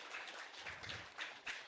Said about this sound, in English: Please welcome our Chief Guest with a huge round of applause.